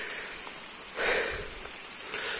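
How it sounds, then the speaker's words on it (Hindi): Steady rain falling outdoors, an even, continuous hiss of drops on surfaces, moderately faint, with a slightly louder patch midway and no voices. "तो बारिश स्टार्ट हो चुकी है"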